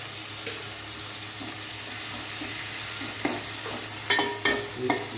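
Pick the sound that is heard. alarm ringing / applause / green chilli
green chilli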